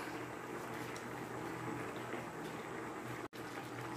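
Adobong pusit, squid in a vinegar-soy sauce, simmers in a pan as the liquid cooks down, giving a steady, faint bubbling hiss with no talking.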